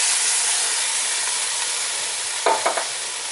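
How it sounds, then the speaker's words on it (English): Two 28-ounce cans of San Marzano whole peeled tomatoes go into a pot with a loud steady sizzling hiss, followed near the end by a few wet splashing plops. "add 2 cans of San Marzano whole peeled tomatoes"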